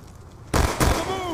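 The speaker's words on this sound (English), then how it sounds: "Hellstorm missile inbound" A Hellstorm missile explodes in Black Ops 2: two loud, close booming blasts about a quarter second apart, their rumble trailing off with faint ringing tones.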